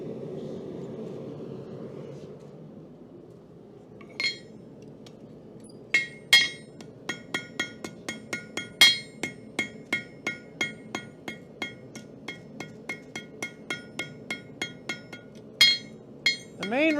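Blacksmith hammer blows on hot steel being forged from one piece of round stock, a slow start then a steady run of ringing strikes with metallic clinks, close and fairly loud after a low rumble at the beginning.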